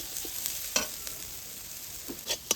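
Onion frying with turmeric and red chili powder in a pan for desi masala pasta: a steady close sizzle with a few sharp spoon clicks and scrapes against the pan.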